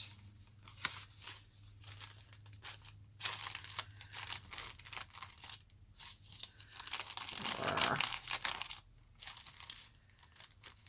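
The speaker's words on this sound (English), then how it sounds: "and this is parchment paper, and we're just going to lay them out." Parchment paper being laid out on a craft pad, giving repeated crinkling and tearing-like rustles in short bursts, close and fairly quiet, with a louder scrunching patch near the end.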